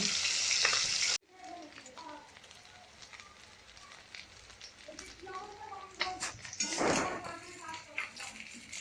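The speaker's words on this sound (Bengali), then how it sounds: "মাছগুলোকে আমি লাল লাল করে ভেজে নেব।" Koi fish frying in hot oil for tel koi, a steady crackling sizzle close by after a sharp start, with bursts of spattering and a few clinks of a pan, with no one talking.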